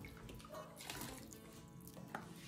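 Running tap water splashes steadily over a cooking utensil being washed in a kitchen sink, a continuous close rushing stream with small clatters, no talk.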